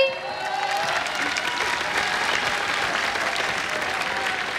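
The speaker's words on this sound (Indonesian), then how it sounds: "Tepuk tangan dulu buat Indri." Steady, dense applause from a studio audience at a televised KDI singing contest, clapping for a contestant; the sound stays loud and even throughout with a faint crowd murmur underneath.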